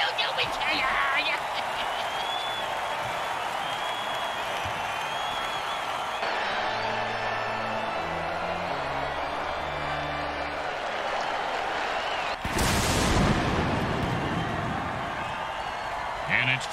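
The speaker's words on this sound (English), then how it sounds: "Oh, crowd's loving it." A stadium crowd in a football video game roars steadily throughout, with a continuous wash of cheering and applause, a swell near the end, and people talking over it.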